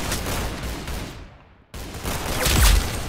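Dense, loud bursts of video game gunfire in Roblox Arsenal, with a brief lull in the middle before the shooting resumes, ending in a heavier thump.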